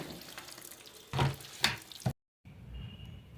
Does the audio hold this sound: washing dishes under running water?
yes